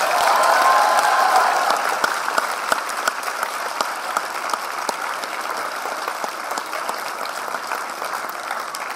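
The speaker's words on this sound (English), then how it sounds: "Let's give him a round of applause." Sustained applause from a crowd, dense clapping that stays steady for several seconds with a few scattered cheers.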